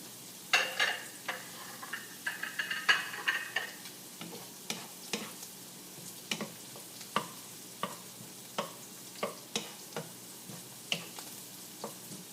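Chili is stirred into softened onion and garlic frying in a pan, giving a steady low sizzle broken by sharp, regular scraping and clicking strokes of a utensil throughout.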